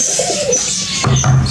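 Pigeons cooing close by, a short burst of low, throaty coos with a brief soft flutter, loud and alone.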